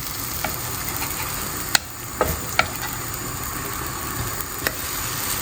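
A wheat pancake cooking in a pan, heard as a soft continuous sizzle with a few sharp clicks and taps as it is turned over, close and without speech.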